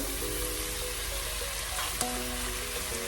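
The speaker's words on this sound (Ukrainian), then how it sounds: "додаємо м'ясо з цибулею і на великому вогні обсмажуємо" Steady, loud sizzling of veal and onion frying over high heat in a hot pan, with a brief clatter of stirring partway through.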